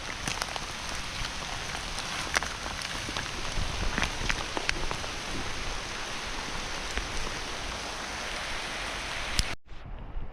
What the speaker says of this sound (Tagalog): Kasabay ng malakas na ulan, nakakulog.